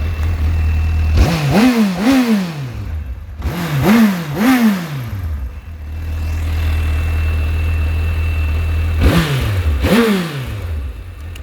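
A 2009 Honda CBF 1000 motorcycle with ABS, in good condition, revved at a standstill: three bursts of sharp, rising rev blips cut into a steady idle, loud and close, with no speech.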